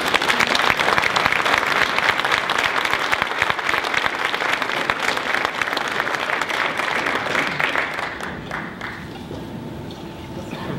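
An auditorium audience at a 2013 Raytown mayoral State of the City address applauds the mayor, dense steady clapping that holds loud for about eight seconds before thinning and fading.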